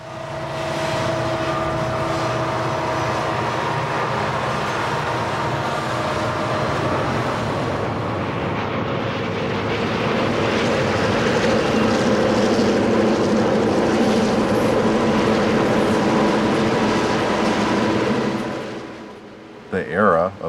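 Southern Pacific diesel locomotives in a big multi-unit lash-up of turbocharged EMD and General Electric power out west give a continuous heavy engine roar that swells louder midway, holds, then drops away near the end.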